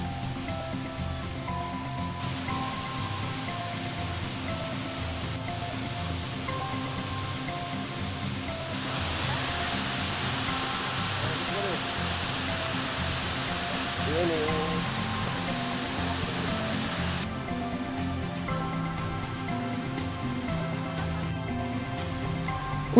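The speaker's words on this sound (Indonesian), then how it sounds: "Oleh masyarakat setempat, air terjun Temam ini juga disebut Niagara Mini" The Temam waterfall on the Temam River in South Sumatra, a broad, steady rushing roar of falling water that fills the whole stretch, with some music-like tonal layers running underneath.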